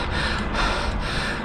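A rider breathes heavily after a bike ride at dusk, with a few harsh, close gasping breaths that fill the short moment and no speech.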